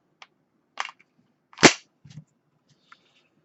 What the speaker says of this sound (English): We have magazine, and we insert that magazine into the pistol.